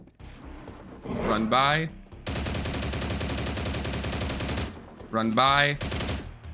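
Rapid automatic gunfire rattles loudly for a few seconds as a player shoots a ghoul in the shooter game STALCRAFT X, with someone speaking briefly before and after the burst.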